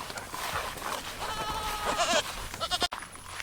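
Goats on a farm bleating, a few wavering cries close by over a rustling outdoor background, with a brief cut near the end.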